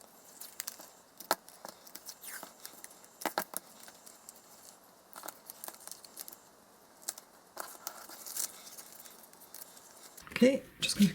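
Scissors trimming excess old masking tape along the edge of a junk journal page, with faint scattered snips and paper rustles under quiet talking, ending in a louder crinkle of tape and paper.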